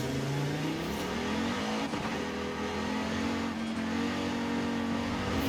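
A 900-horsepower rear-wheel-drive car in Forza Horizon 5 revs hard while accelerating, its loud engine note climbing steadily and droning unbroken throughout, with no talk over it.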